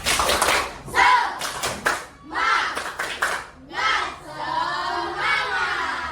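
Children perform a rhythmic 'tepuk semangat' clap chant in a classroom, bursts of sharp clapping alternating with loud chanted voices in a patterned call-and-clap rhythm.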